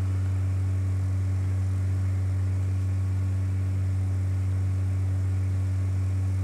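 An aircraft engine hums in the FSX flight simulator, a steady low drone with a constant pitch that holds evenly throughout, no voices over it.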